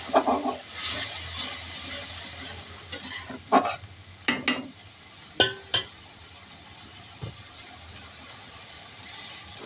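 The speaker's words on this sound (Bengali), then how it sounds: "আমি এই মশলাটা ভালো করে কষাবো, বেশ কিছুক্ষণ ধরে কষায় তেলটা যখন ফুটে উঠবে" Masala for a fish curry being stirred and fried in a pan, with a steady low sizzle under sharp spatula scrapes and clacks that come in irregular bursts, close by and with no talk.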